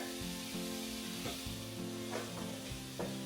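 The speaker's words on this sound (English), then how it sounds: "Now I'm going to add the beef back in. Give it a good stir." Beef being stirred back into a skillet of shepherd's pie filling with cream cheese, giving a steady low sizzle under repeated scraping strokes of a utensil, close and moderately loud.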